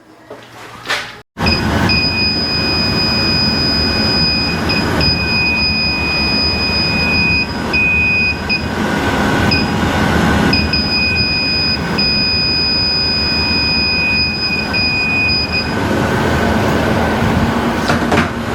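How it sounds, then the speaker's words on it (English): An apartment air conditioner compressor, with a leak on its braze line, kicks on after a brief thump and runs loud and steady, a dense mechanical hum overlaid with high whining tones that cut in and out. "now we'll kick her on and see if the compressor runs"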